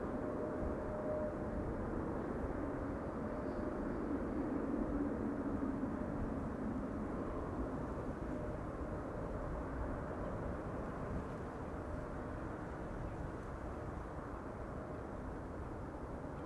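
An Emirates SkyCargo freighter taxiing across an airport runway toward the cargo apron, heard as a distant, steady jet-engine rumble and whine that holds evenly throughout.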